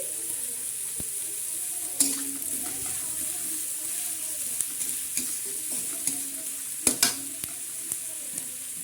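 Chopped onion and ginger fry in a pan for dal tadka, making a faint, steady sizzle broken by a few sharp stirring knocks and clatters.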